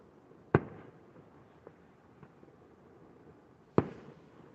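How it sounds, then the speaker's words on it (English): Fireworks set off by kids outdoors on the Fourth of July in Silverton, Colorado: two sharp, distant bangs a few seconds apart, with faint pops between them over a quiet background. "No, that's kids with fireworks."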